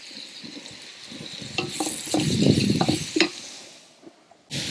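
About 600 grams of sliced onions sauté and sizzle in a pan for egg biryani while a spoon stirs them. There are clinks and scrapes against the pot, a steady frying hiss throughout, and no talking.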